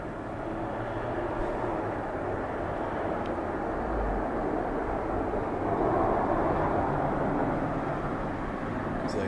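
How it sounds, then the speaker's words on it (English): Jet aircraft flying in the background during a rain-snow mix, a steady broad roar held throughout, moderately loud and distant with no change in level. "that sounds like a jet in the background"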